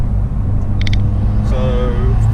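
Decatted Vauxhall Astra Corsa VXR engine rumbling loudly up close, with a few short sharp exhaust pops cracking over the steady drone.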